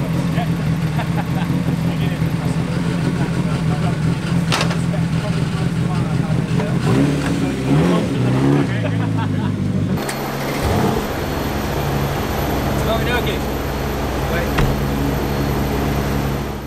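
Mercedes C63 AMG drifting with a sustained loud engine roar and tyre noise, shifting in pitch as the car slides and powers on, with people talking inside the car over it.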